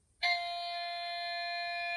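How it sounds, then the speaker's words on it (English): Bachmann Class 70 model locomotive's DCC sound decoder plays its AWS horn, a single steady electronic tone that starts abruptly and holds evenly at low volume. "Function 21 is the AWS horn."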